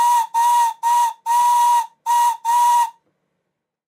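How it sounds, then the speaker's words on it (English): Modified steam whistle on a model Stirling Single locomotive, poorly air-sealed, blowing six loud, close shrill toots of uneven length in quick succession before stopping. "I can't get a very good air seal on the whistle, but you can hear by the distortion on the camera's microphone how loud it is"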